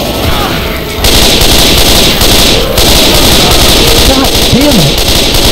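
Loud automatic gunfire and shotgun blasts fill a Left 4 Dead 2 survival fight against a Tank, steady and close, with someone shouting over the shooting.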